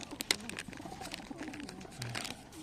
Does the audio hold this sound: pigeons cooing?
yes